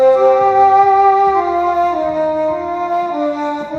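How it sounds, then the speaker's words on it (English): An Indian bansuri bamboo flute plays a smooth, sustained melody with sliding notes, clear and close, accompanied by low plucked tones beneath, no talking. "The bansuri sounds like this."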